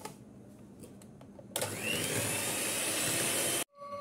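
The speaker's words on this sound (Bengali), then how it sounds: "এটা দেব আর বিট করে নেব" An electric mixer beats sugar into an ice cream mixture, starting abruptly after a quiet stretch and whirring loudly and steadily for about two seconds before cutting off.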